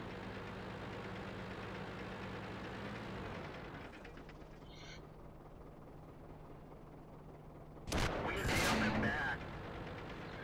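A tank cannon shot in World of Tanks bursts out loudly near the end, rising over a steady low engine rumble and battle ambience, with no voice heard.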